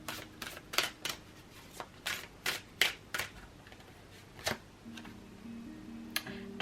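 A deck of oracle cards being shuffled, a series of crisp riffling snaps spaced irregularly about every half second, close and moderately quiet, with a faint tonal background.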